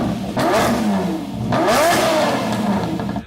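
A neglected Fast & Furious Lamborghini movie car engine revs hard twice, climbing and falling in loud, close sweeps with a rough mechanical clatter underneath.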